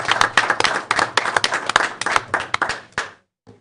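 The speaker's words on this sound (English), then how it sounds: "And so a big round of applause." A small crowd at a school board meeting claps for students who earned two associate's degrees, brisk close hand claps lasting about three seconds before stopping abruptly.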